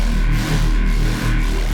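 A high-passed synth patch running through a Minimal Audio chorus plugin holds a steady, wide sustained tone with a gentle recurring pulse about every 0.4 seconds, loud and on its own with no talking.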